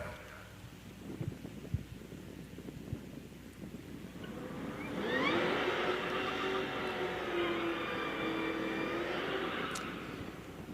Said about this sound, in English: one of these two cars is running some sort of a supercharger